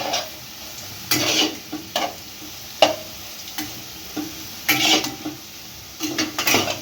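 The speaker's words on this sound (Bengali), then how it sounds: "তো হয়ে গেল আলু ভাজা" Potatoes frying in a pan, with a soft continuous sizzle broken by repeated scraping and clinking stirs of a utensil against the metal, close by and without talk.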